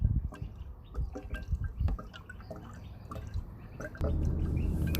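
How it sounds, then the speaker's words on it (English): Race fuel is poured into the tank of a Hyundai i30N, giving irregular liquid splashes and drips close by, then a steadier gurgling fill toward the end. "we've poured in the race fuel"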